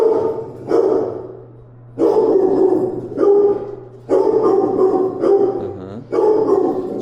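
Dog named Remo barking during a behavior evaluation, a run of deep, loud barks in separate bursts about every second or two, close by, with a low steady hum beneath and no talking.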